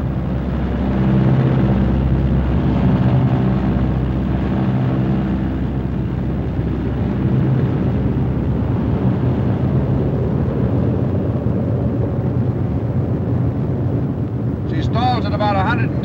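A B-26 bomber drones in flight with a steady, loud, low engine roar and wind rush from inside the cockpit, continuous throughout, with someone talking briefly near the end.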